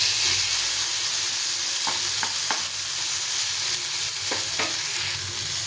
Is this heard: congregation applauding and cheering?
no